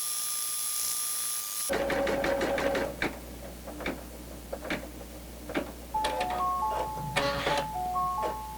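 An embroidery machine stitches a satin stitch over fabric applique, its needle tapping in a rapid mechanical rhythm with electronic beeps and brief pauses between bursts.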